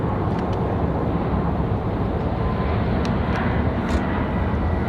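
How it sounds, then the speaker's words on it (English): A Delta airliner departing from Raleigh-Durham International Airport, its engines a loud, steady broadband roar that holds without a break, heard alone with no voices. "Delta 1097 going to be our next departure."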